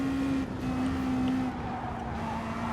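Racing car engines in Gran Turismo Sport, with a slower BMW ahead, hold a steady sustained drone at high revs, running loud and continuous near the listener.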